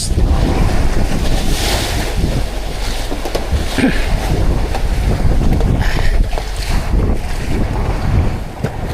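Strong southwest monsoon wind roars across the open Pacific while ocean waves surge and wash around a boat, a continuous loud rush with heavy wind buffeting on the microphone and no voices.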